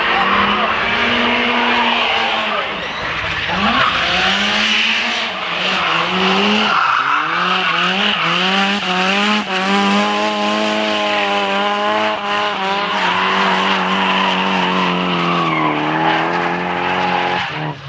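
A drifting car at Castle Combe circuit during the Forge Action Day 2018 drift event: a loud, close engine wails up and down through the revs while tyres squeal steadily, with barely a break across the whole run.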